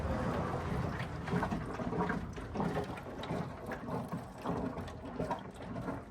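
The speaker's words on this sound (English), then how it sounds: "So you can hear it bubbling in there, which means it's just about boiling point, too hot" The overheating radiator of a 1923 Ford Model T bubbles near boiling, a steady churning gurgle with irregular pops and mechanical rattles running the whole time, close and fairly loud, with no talking.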